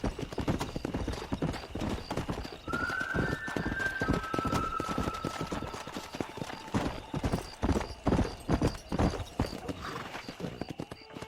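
Horse hooves clip-clop at a steady gallop across open ground in Red Dead Redemption, a continuous rapid rhythm with a brief whinny partway through, held close and prominent.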